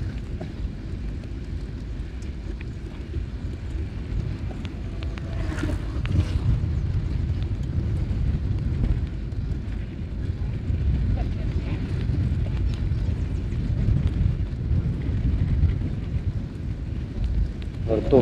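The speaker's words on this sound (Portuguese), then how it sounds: "Estou pedalando aqui contra o vento." Steady wind buffeting the microphone while cycling against a headwind along the coast road near Praia de Cabo Branco in João Pessoa, a continuous low rumble through the whole stretch with occasional speech over it.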